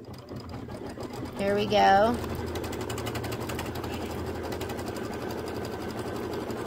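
An embroidery machine stitches the outside tack-down line on an autumn quilt with a rapid, steady mechanical chatter, and a person briefly speaks early on over the running machine.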